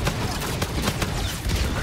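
Pistol fire in Call of Duty: Infinite Warfare, a quick string of sharp separate shots over busy, loud game noise, with a few brief quieter gaps between bursts.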